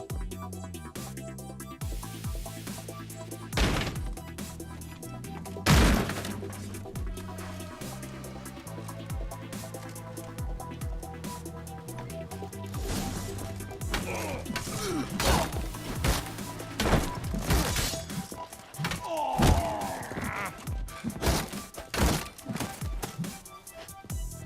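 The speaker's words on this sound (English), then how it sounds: "explosion triggered that fight" Combat in The Witcher 3: Wild Hunt, set off by an explosion: sharp whacks, crashes and thuds strike irregularly over a low game score, with a heavy burst partway through and clustered impacts near the end.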